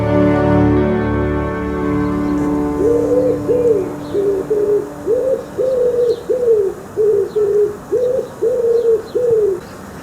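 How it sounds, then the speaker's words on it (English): A wood pigeon coos in a clear, repeated series of soft hooting notes, close and prominent, starting after a few seconds over a faint low background hum. "That's my favourite sound in the world, that. The wood pigeon, the humble wood pigeon."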